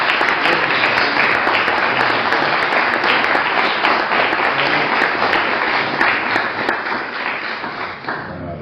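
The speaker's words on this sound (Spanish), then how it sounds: "quería pedir un aplauso" Audience applauding after an archaeology lecture on late Roman rural sites, steady dense clapping filling the room throughout, close and loud, easing slightly at the end.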